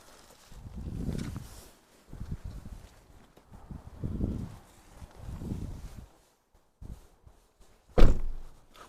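Rear door of a Renault Megane 2 that closes very stiffly, heard as several muffled thuds spread out with pauses between them, ending in one louder, sharper slam near the end.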